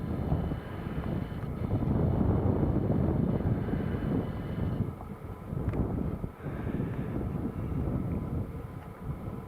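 A British Airways airliner passes high overhead above rural Northumberland hills on a hazy day, a distant, steady jet drone mixed with wind noise on the microphone.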